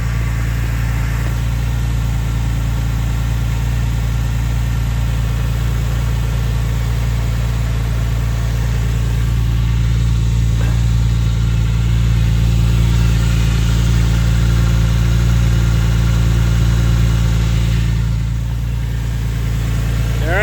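Porsche 996 Carrera 2 flat-six engine idling after its cold start cycle has settled down, a smooth, steady low hum with faint mechanical ticking, heard close and alone.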